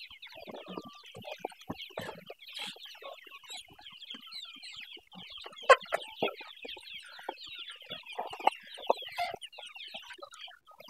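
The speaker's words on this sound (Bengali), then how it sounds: "এটা কি দেশি গোলাশিলা মুরগি না?" Desi Golashila chickens on a poultry farm cluck steadily in a dense, overlapping chorus, with a few sharper calls standing out now and then, close by and moderately loud.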